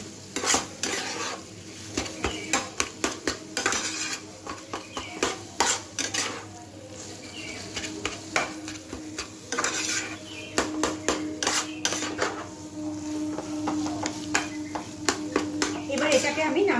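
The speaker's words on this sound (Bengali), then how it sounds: "এখানে ধনে পাতা কুচিটা দিয়ে দিচ্ছি দিয়ে এটা আমি ভালো করে মিশিয়ে নিচ্ছি" Chopped coriander leaves stirred into a cheese filling for stuffed pointed gourd in a pan, with repeated scraping and metallic spatula knocks against the pan over a low sizzle while someone talks.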